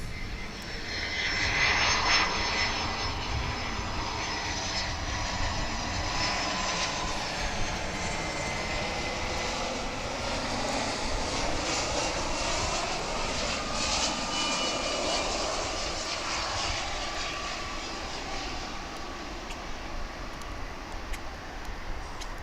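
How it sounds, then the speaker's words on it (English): A UPS cargo plane at DFW International Airport roars steadily for over twenty seconds, a loud sustained engine rumble with a broad hiss that swells early and slowly shifts in pitch as the aircraft passes, with no talking. "I think we've got another UPS flight here."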